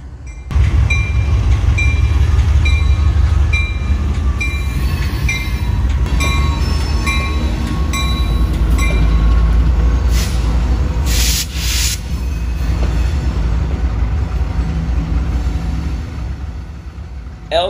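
A Seminole Gulf Railway freight train on the DeSoto Turn, running from Fort Myers toward Arcadia, rumbles loudly and steadily close by, with a sustained horn-like tone, metallic rail clatter and brief hissing bursts throughout.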